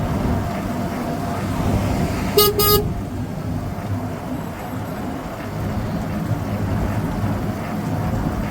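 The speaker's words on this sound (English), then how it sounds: "Radar letting me know we got a car coming up behind us" A bicycle radar unit chirps a brief burst of quick electronic beeps to warn of a car coming up from behind, heard once over steady road and wind noise during a ride.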